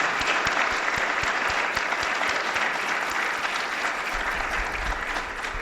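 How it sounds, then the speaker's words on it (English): Dense, sustained audience applause closing a public health grand rounds session on preventing youth violence, a continuous loud wash of clapping from a large room with no voices over it. "Let's have a big round of applause for these"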